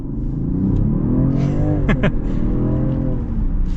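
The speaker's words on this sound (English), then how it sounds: "now we'll get a little acceleration here" A 2023 Range Rover luxury SUV accelerates with a steady, full engine drone that rises smoothly in pitch, heard close from inside the cabin with no talking, plus a brief sharp sweep partway through.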